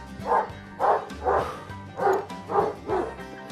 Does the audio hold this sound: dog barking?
yes